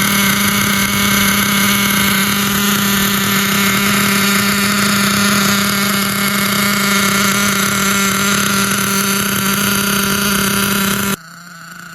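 SH .28 nitro engine in a Thunder Tiger MTA4 RC truck running steadily at idle, a loud, close, constant buzzing drone with strong harmonic whine that cuts off abruptly near the end.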